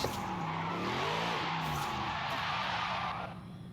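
A car drives down a road in the video game Forza Horizon 5, its engine droning steadily with tires squealing and skidding for a few seconds before the engine note eases and fades slightly near the end.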